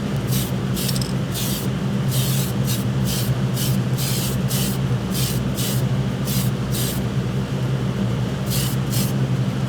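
Primer sprayed from a can onto resin kit parts, a series of short hissing bursts in an irregular rhythm over a constant low background hum.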